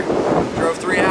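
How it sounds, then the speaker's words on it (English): Strong wind buffets the microphone on a beach during a bomb cyclone winter storm where surfers gather for big waves, a loud continuous roar with faint voices talking under it. "Pretty windy."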